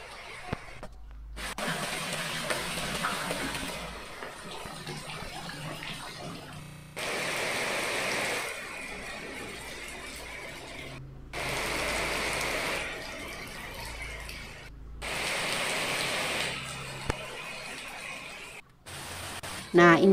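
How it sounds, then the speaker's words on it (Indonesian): Heavy rain pours down in a village as a loud, steady broadband hiss that fills the whole stretch and breaks off abruptly a few times between segments. "hujan deras."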